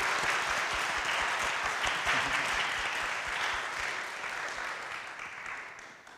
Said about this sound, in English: If we could just extend a round of applause.